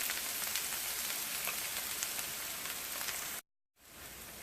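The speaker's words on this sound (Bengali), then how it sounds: "সো গরম তেলে আমরা 1 কাপ পরিমাণ পেঁয়াজ" A cup of onions hits hot oil in a frying pan, making a dense, loud, steady sizzle that crackles throughout and cuts out briefly near the end before returning.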